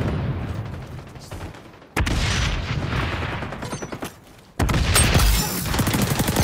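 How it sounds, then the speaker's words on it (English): In the shooter game XDefiant, a frag grenade detonates with sudden loud booming blasts, two sharp onsets followed by rumbling decay amid nearby gunfire. "Throw it a frag."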